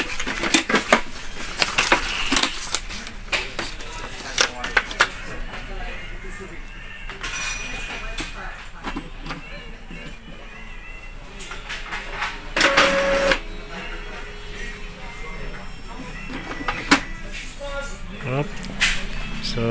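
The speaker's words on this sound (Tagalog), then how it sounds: "Try tayo mag-test print." An Epson L3210 printer runs a test print up close, with whirring feed noise, mechanical clicks and clunks through the run, while a person talks over it.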